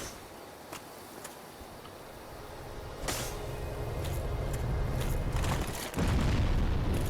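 Enemy self-explosion in the video game Dark Souls: a dense rumbling roar swells at three seconds, then a deeper, louder blast-like surge near the six-second mark, with no voice.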